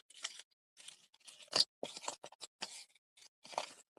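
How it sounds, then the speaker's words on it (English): A sheet of paper is crumpled by hand, giving a string of crisp, close crinkling bursts with brief pauses between them. "we're just going to crumple it up"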